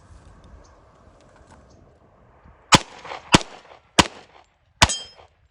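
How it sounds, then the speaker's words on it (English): Four rapid shots from a Radom Vis P35 pistol firing 124-grain rounds at steel targets, loud sharp cracks with short echoing tails and faint steel rings, following a quiet outdoor lead-in. "I'm gonna put 4 rounds of the ZQI 124 grain in the original mag on steel as fast as I can."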